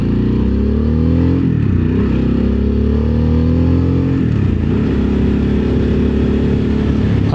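A Harley-Davidson Sportster S motorcycle engine runs loud and close, with steady rumbling and rising then falling revs, dipping around the middle before settling into a constant drone.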